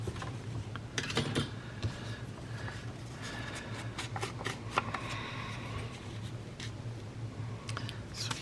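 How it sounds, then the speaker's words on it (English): A printed paper label is torn off a small folder cover during papercraft, giving close, steady crinkling and rustling with scattered sharp crackles of the paper. "I think I'm actually going to tear that crop and soil improvement off of there."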